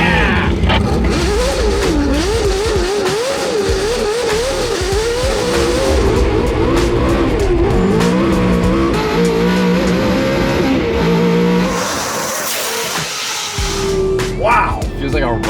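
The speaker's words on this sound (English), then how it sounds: "that thing sounds like a F1 car" A loud naturally aspirated 1000hp C8 Corvette drift car engine revving up and down in rising and falling sweeps toward 10,000 RPM, close by, with people's voices talking over it.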